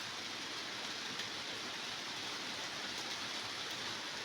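Rainy-season rain falls outside a sailboat in a faint, steady, even hiss, with no voices.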